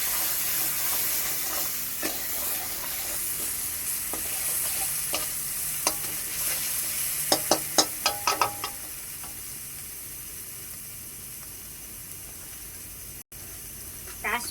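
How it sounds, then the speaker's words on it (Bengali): Spice masala sizzles softly in a pan as it is stirred, with scattered clinks and a quick burst of sharp scraping taps around the middle, followed by a steady low frying hiss. "মশলাটা ভালোভাবে কষিয়ে নেব।"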